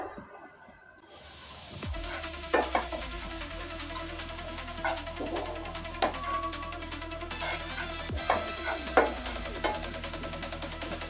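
Sesame seeds roasting in a pan over a low flame, with a soft steady crackle and scattered sharp clicks and scrapes from stirring, close and continuous after a quiet start.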